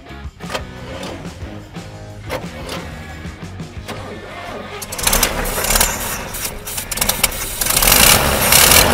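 A 1959 BMW Isetta engine starts after 30 years idle, first cranking in irregular ticks and clicks, then catching into a loud, rough, rattling idle that rises and surges near the end.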